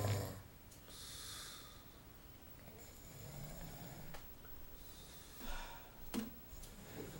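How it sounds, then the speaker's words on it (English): Giant panda snoring, faint, irregular snorts and breathy rasps recurring every second or two, some sharper snuffles standing out near the end. "This is the snoring panda."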